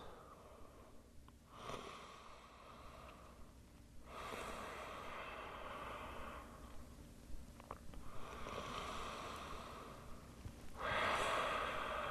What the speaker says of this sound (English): just breathing in and out of the nose